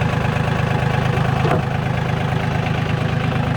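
A New Holland 450 sickle mower driven off a tractor PTO runs steadily while cutting a patch of grass, a loud, even engine drone with a rapid low rattle and one brief higher clatter midway, no voices.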